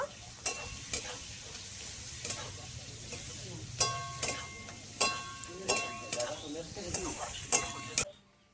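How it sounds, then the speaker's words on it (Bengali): Chopped onion frying in a pan with a steady sizzle, broken by repeated sharp scrapes and clinks of a spoon stirring against the metal every second or so, close and clear. "পেঁয়াজটা ভালো করে একটু ভেজে নেব"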